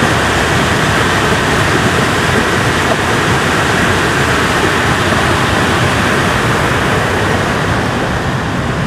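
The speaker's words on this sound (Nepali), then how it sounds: "फेरि एकचोटि पुरै धमिलो पानी बगिरहेछ" Muddy floodwater in the Sardu river rushes past beside Shram Sanskriti park, making a loud, unbroken roar that stays level throughout.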